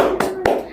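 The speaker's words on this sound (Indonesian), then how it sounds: "Coba ayo sekali lagi tepuk semangat." Two sharp hand claps from a classroom rhythmic clap chant (tepuk semangat), spaced a quarter second apart, close and crisp over a faint sustained tone.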